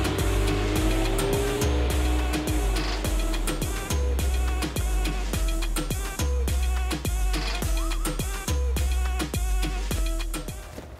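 A car races fast in a chase, its engine roaring through rapid gear shifts and revs with repeated tire squeals, loud and close, with no voices.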